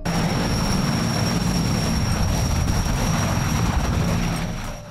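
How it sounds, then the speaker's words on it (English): A heavy lift helicopter roars overhead in a loud, continuous engine and rotor drone with a thin high whine, steady throughout and easing slightly at the end. "Heavy lift helicopters are designed to carry extremely heavy loads"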